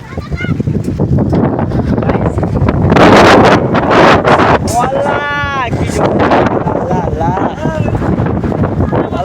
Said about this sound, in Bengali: ইকোপার 1 নম্বর গেটের এখানে প্রচুর হাওয়া উঠেছে